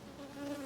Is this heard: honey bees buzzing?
yes